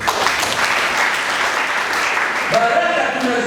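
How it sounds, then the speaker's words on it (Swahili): A church congregation applauds loudly and continuously, a dense close wash of clapping, with a voice or tone entering near the end. "Mpenzi makofi."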